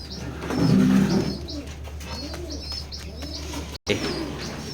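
A pair of red checker pigeons coo nearby in soft, rolling, repeated calls, with a brief louder flutter early on.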